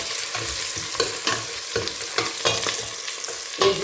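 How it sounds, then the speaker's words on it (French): A spoon stirs vegetables with garlic and leek in a hot cooking pot, rhythmic scraping strokes about twice a second over a steady sizzle of frying, close and clear. "Et je vais tout mélanger d'abord."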